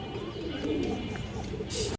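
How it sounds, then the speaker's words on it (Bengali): A Bagha Sabujgola hen pigeon and others nearby give low, soft coos that run steadily close by and fairly quiet, ending with a short burst of hiss and a clunk. "বাঘা সবুজগুলো একটা মাদি দর্শক, খুব সুন্দর একটা মাদি কবুতর"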